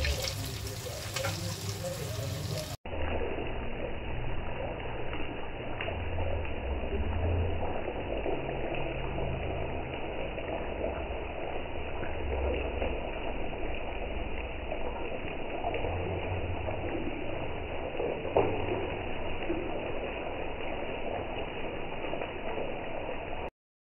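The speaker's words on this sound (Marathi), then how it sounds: "सो आता ह्याला चांगलं आपण फ्राय करूया" Cheese balls deep frying in hot oil, a steady dense sizzling and bubbling that runs continuously at close range after a brief louder opening moment, with no voices.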